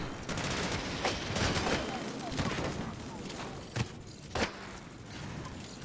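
Gunfire in the shooter video game Disintegration rattles in dense, continuous bursts with a couple of sharper impacts, fairly loud, while a voice talks over the action.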